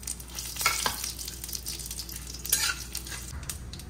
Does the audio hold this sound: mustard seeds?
yes